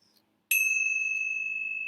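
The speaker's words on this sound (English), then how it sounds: "let's close with the ringing of the bells" A single bell is struck once after a short quiet, giving a bright, clear ding that rings on as a long, slowly fading tone, alone in a calm room.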